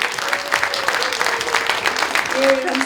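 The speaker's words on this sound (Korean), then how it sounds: "박수 한번 주시죠." An audience at a book concert in Osan applauds steadily, a dense wash of many hands clapping at fairly even loudness for about three seconds.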